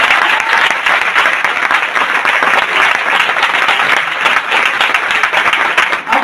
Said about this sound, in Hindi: पहले तो इन सब लोगों के लिए एक बार जोर से तालियां होनी चाहिए।